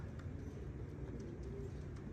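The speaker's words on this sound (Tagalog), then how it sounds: "nag enjoy pa yung mga ibon" Racing pigeons coo softly and steadily among the flock ahead of a race, faint and low under a constant outdoor rumble.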